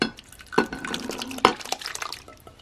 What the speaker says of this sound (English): First things first, we're gonna dump the beans.